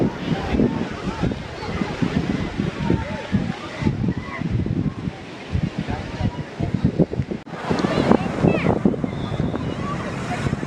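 Rough ocean waves crash and surge continuously at Kankesanthurai beach in Jaffna, mixed with gusty wind buffeting the microphone while someone talks over the surf.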